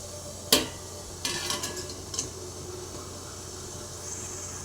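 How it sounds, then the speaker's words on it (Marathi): A metal idli tray set into a hot idli steamer on a gas stove, with a sharp clank and then a few lighter metallic clatters and scrapes, heard close against a steady low background hum. "इडली पात्र गरम करत त्यात आता इडलीचा ट्रे ठेवून देऊया"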